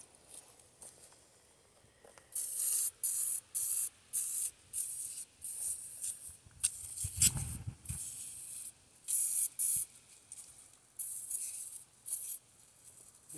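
Rust-protection spray hisses onto the cleaned journals of a crankshaft in bursts of one to two seconds, repeated steadily with short pauses, loud and close, with no talking.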